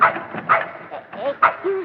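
A small cairn terrier in a train compartment gives several short yips and whimpering barks close by, mixed with human talk.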